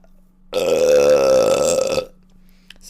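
One long, loud, deep burp swells and holds for about a second and a half in a quiet room, then cuts off abruptly.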